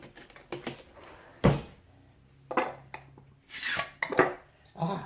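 Crinkly plastic rustling in several bursts, close by, with small clicks and taps between them as a bag of dehydrated broccoli is pulled open.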